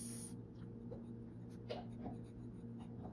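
A pen writing on paper with Birmingham Pen Company Crisp Formula ink during swatching, faint scratchy strokes in short separate bursts over a steady low background hum, with no voices.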